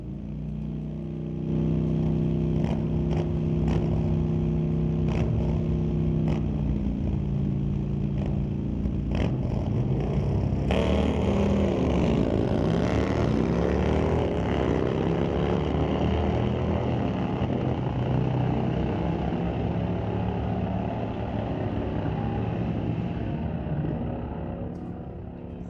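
A pair of Harley-Davidson motorcycles in a street-legal drag race at a raceway, loud engines revving hard and roaring together, the sound swelling as they launch and fading as they pull away down the strip.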